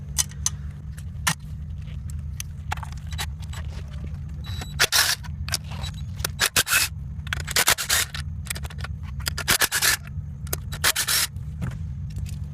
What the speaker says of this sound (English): Now we unbolt the left side manifold.